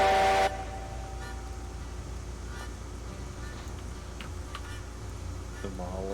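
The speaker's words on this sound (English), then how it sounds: "That whistle. That is loud." A steam locomotive whistle in the train game Railroads Online gives one loud, bright blast at the start, then cuts off and leaves a steady low engine rumble with faint clanks.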